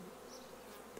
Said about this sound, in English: almost probably all three of those boxes are full of bees